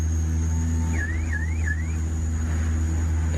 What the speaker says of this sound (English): Why is the car alarm going off?